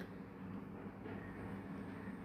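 Steady low rumble of a train in motion, heard from inside a carriage near Vijayawada, a continuous moderate drone with no talk.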